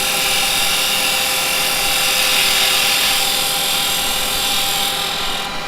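A wood lathe spins as a carbide chisel takes fine finishing cuts, producing a loud, continuous broadband hiss and whir with a steady tonal hum underneath, dropping slightly right at the end.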